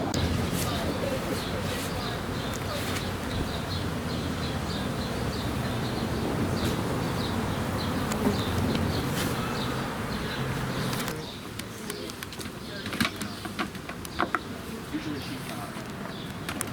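Bees buzz around a backyard hive while frames are handled, giving a dense, continuous hum close by. Voices talk over it throughout, and the buzzing thins somewhat toward the end.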